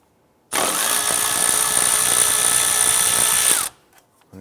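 A power socket tool spins out a 10mm bolt holding the ABS sensor to the knuckle of a 2001-2005 Honda Civic, one loud continuous high whine lasting about three seconds, close up, then a few faint clicks.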